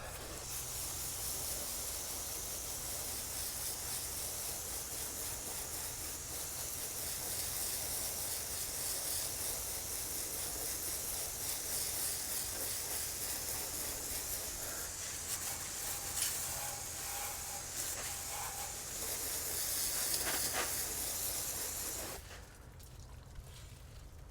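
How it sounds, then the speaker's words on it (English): A steady hiss of water spraying and rinsing off a fiberglass boat hull runs for a long stretch, close and continuous, and drops away sharply near the end. "Let's rinse this off."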